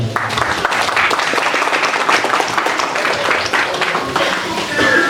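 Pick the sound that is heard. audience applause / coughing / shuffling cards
audience applause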